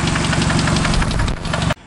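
A car engine with a loose number 1 connecting rod bearing gives a loud, steady, rhythmic rod knock at idle, repeating rapidly for under two seconds before cutting off abruptly.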